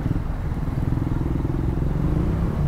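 A Keeway café racer motorcycle engine rumbles steadily up close, a low continuous drone with slight wind buffeting, riding along a road in Cabuyao traffic.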